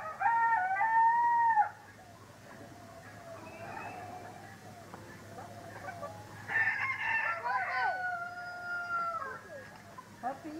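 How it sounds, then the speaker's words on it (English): A rooster crows loudly nearby on a farm, then hens cluck softly, followed by another burst of louder crowing and squawking. "See the chickens, buddy?"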